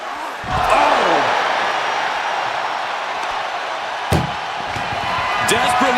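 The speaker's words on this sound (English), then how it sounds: "desperately trying to close the first of two doors" Ambulance doors slamming shut in the WWE 2K25 wrestling video game, with a sharp bang near the start and another around the middle, under continuous commentary and a loud arena crowd.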